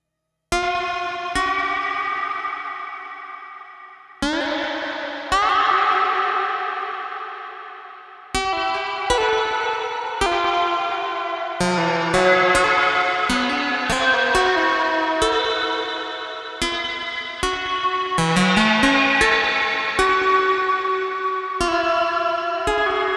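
A Strymon StarLab pedal in Karplus-Strong mode gives plucked string tones whose tuning is modulated. Bright, echoing notes ring out and decay, first as sparse separate plucks and then as denser, overlapping repeated strikes, loud and close, with no voice.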